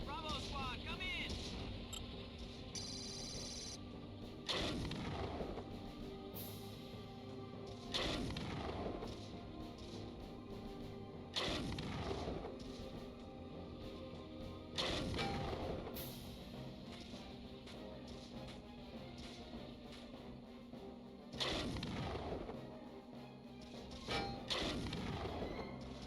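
Deck guns on an enemy vessel in the game Heavy Gear fire in heavy booming blasts, about six evenly spaced shots over a constant low engine drone, with radio chatter between them.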